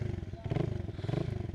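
A 2025 Hi Speed SR 150 cafe racer motorcycle idling and blipping its small single-cylinder engine, a steady rapid pulsing thump, close and moderately quiet, with a voice faintly underneath.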